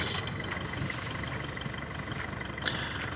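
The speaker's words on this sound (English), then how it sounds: "And to start the engine, it's the top button." The engine of the boat Explorer of Sleat, a glow-plug engine started with a button, idles with a steady, even, close rumble and no talking.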